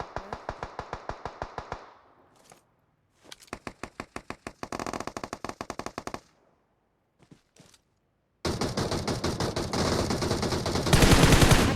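Automatic and single gunfire from a squad ranked battle video game comes in loud rapid bursts separated by short pauses, with dense sustained volleys toward the end, and no talk.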